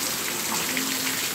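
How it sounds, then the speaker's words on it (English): Steady rain falls outdoors as an even, continuous hiss of drops with no distinct gusts or voices. "It's raining."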